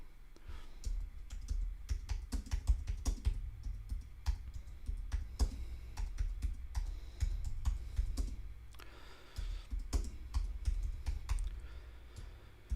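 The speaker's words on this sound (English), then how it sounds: "So bear with me while I just type this one out," Typing on a computer keyboard, a steady run of close, crisp key clicks with irregular rhythm and a low background hum, no voices present.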